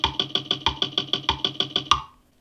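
GarageBand guitar loop EQ'd with full treble and the bass removed: a bright, thin plucked pattern repeating about a dozen quick evenly spaced notes, fairly quiet, ending with a short decay.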